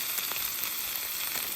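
A loud, close sizzle of a ribeye steak searing on a hot grill at a campsite, a continuous crackling hiss.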